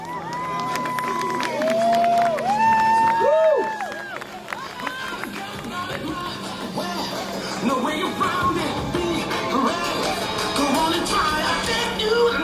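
Indoor crowd at a gymnastics or tumbling event cheering and shouting, with a lively babble of voices and brief whistles, swelling in the first few seconds and then settling into a steady background roar.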